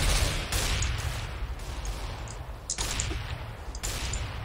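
Rapid machine gun fire in Counter-Strike: Global Offensive, loud dense bursts of shots rattling close, breaking off and restarting several times across the stretch, with no talking.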